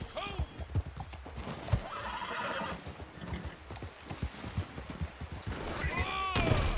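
Horse in the video game Red Dead Online, with rapid clip-clop hoofbeats and a couple of loud neighs or whinnies, heard under someone talking.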